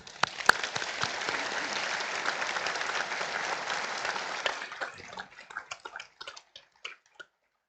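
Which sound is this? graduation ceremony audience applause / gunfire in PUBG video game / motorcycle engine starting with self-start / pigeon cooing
graduation ceremony audience applause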